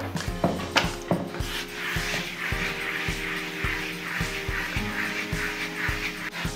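Tile with white efflorescence deposits is scrubbed using citric acid powder sprinkled directly on it, making a steady series of brisk, rhythmic rubbing strokes up close, with no voices.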